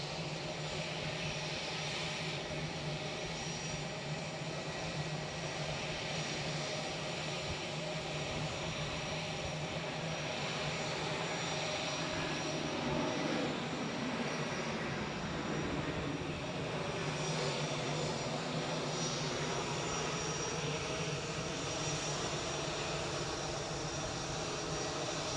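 An EasyJet airliner arriving at Edinburgh airport, inbound from Paris Charles de Gaulle, makes a steady, loud engine roar that holds broad and even for the whole stretch with no pauses.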